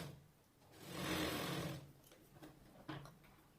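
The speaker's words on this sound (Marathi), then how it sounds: "उसवायला नको ब्लाऊज म्हणून आपण डबल शिलाई मारून घेतोय" A sewing machine runs a double line of stitching along a blouse strip: a quiet, steady mechanical whir that swells for about a second, then continues more softly with light clicks, no voices.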